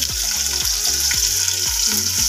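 Onions and chillies frying loudly in a pan, a close, bright sizzle with a run of soft thuds and scrapes as the pieces are stirred.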